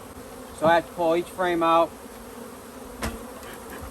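Honeybees drone around an opened hive during swarm management, a constant low buzz that runs beneath a man's brief speech.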